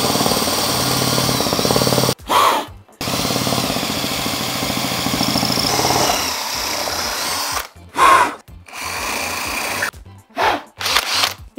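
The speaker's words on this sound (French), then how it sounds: "Perceuse visseuse, mèche à bois de 8 cales." A drill-driver spinning an 8 mm wood bit in reverse reams out the fin box hole of a 2019 NeilPryde Glide windsurf board, a loud close whine in long bursts broken by short pauses, with no talking.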